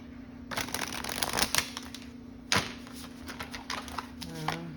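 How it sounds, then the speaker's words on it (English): Deck of tarot-style cards being shuffled by hand, rapid riffling clatter in bursts with brief pauses, close and fairly quiet over a low steady hum. "it just turned sideways while I was shuffling"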